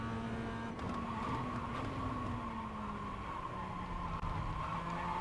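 A race car in a racing video game brakes hard into a hairpin, its engine note steady and loud, then falling as it slows, with no voices.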